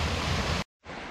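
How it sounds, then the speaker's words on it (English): Steady rushing roar of a small waterfall at an abandoned historic site in Scotland, loud and close, breaking off briefly before resuming slightly softer. "This is a cool wee waterfall though."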